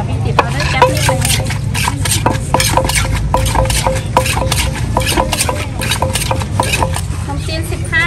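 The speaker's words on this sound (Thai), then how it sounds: "แม่ค้าตำไม่ได้หยุดเลย" A vendor pounds som tam papaya salad with pla ra fermented fish sauce in a mortar at a busy stall; rapid, steady strikes repeat throughout, close and loud, over a constant market hum with voices in the background.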